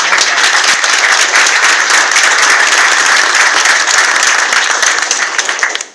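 A convention audience applauds loudly and steadily, a dense wash of clapping that holds for several seconds before fading out at the end.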